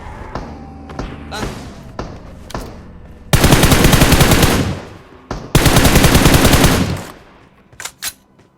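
Gunfire from the mobile battle-royale game PUBG Mobile: two long, loud bursts of rapid automatic fire. Scattered single shots and thuds come before and after the bursts.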